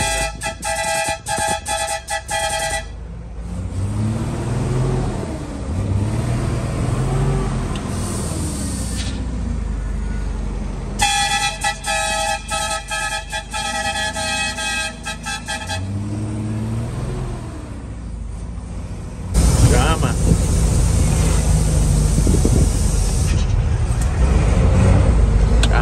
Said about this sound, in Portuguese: Carro passando.